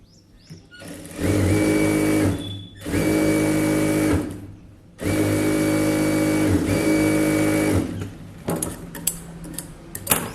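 A sewing machine stitches a blouse in three long, steady runs of whirring motor and needle, close and loud, separated by short pauses, ending with scattered handling noises.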